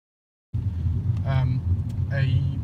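A small 1-litre engine in a later, post-facelift Seat Toledo hums steadily under load, climbing a hill in third gear, heard from inside the cabin, a low constant drone with someone talking over it.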